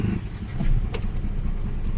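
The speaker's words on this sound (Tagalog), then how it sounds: "Engine start." A Hyundai Eon with low power and delayed response starts up, a steady close engine rumble settling into idle with a brief click partway through, no talking.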